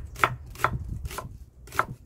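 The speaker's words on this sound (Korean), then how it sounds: "양파가 너무 커가지고 칼이 좀 안 드네" A knife chops through a very large onion on a board, four sharp evenly spaced thuds over a low background rumble, close and alone without talk.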